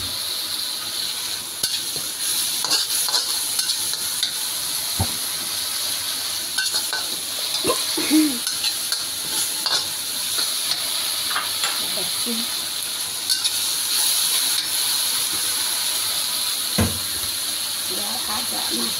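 Green chilies and bitter melon stir-fry in oil with a continuous sizzling hiss, broken by scattered scraping and clattering of stirring utensils, close up and steady for the whole stretch.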